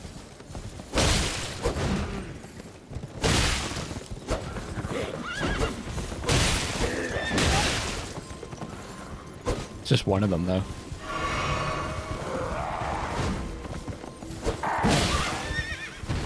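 A horse in the Elden Ring video game neighs loudly several times amid repeated clip-clop hoof thuds and combat impacts, with a voice talking briefly over it.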